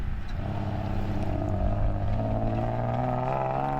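A Toyota bakkie races off-road on a dusty course, its engine droning loudly and climbing steadily in pitch as it accelerates, with wind rushing over the microphone.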